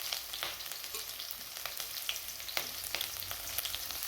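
Chopped green chilli, capsicum and spring onion sizzle in a hot pan while a spoon stirs them, with steady close frying crackle and occasional scraping clicks.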